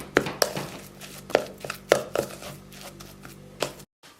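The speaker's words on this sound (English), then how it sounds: "now what I do is just mash up the pellets" Soaked pellets mashed for syringe feeding a gerbil, giving a series of sharp, close taps and scrapes in an irregular rhythm, about eight distinct hits over a few seconds with a quiet pause at the end.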